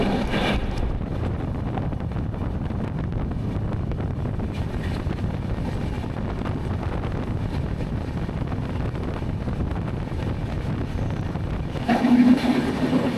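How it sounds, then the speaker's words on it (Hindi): An Ahmedabad to Bhuj express train runs at speed, heard from inside as a loud, steady rumbling roar with wind buffeting the microphone, continuous throughout, with a brief burst of extra noise near the end. "इतनी स्पीड में ट्रेन चल रही है"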